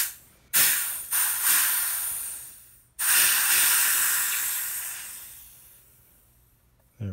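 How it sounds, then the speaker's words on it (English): Loud bursts of air hiss as the valve on a Diana Bandit PCP air pistol is bled after closing the tank, a short sharp blast, a pause, then a longer rush that slowly fades away. "bleed the air valve"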